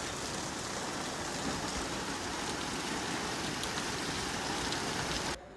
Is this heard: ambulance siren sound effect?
no